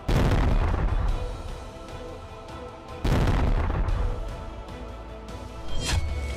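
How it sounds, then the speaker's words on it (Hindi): Two heavy booms from a naval drone attack on a Russian ship in the Black Sea, each a sudden loud blast with a long rumbling decay, followed by a sharper crack near the end. "ज़ेलेंस्की ने रूस के विराट शिप पर बड़ा धमाका किया है।"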